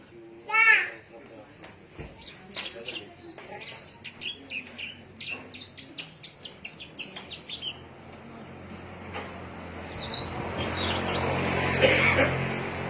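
Javanica songbird from Cilacap, rapid bright chirps and warbling phrases repeating near and clear for several seconds, then fading into a rising hiss of background noise.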